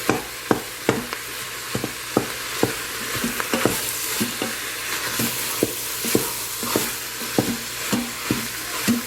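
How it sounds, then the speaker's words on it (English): Ground meat browning and sautéing in a pan for a keto bean-free chili, with a steady sizzle broken by regular sharp scrapes and knocks of a spatula, loud and close, with no talking. "I'm just like trying to make sure I saute my meat"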